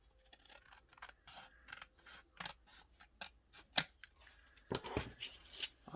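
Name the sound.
cutting paper with scissors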